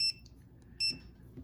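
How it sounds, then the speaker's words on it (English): A TireMinder i10 tire pressure monitor sounds two short, high electronic alert beeps, the first at the start and a second a moment later, with faint low background noise between them. "there's a red light when you get an alert. That pops up right here, and there's an audible beep"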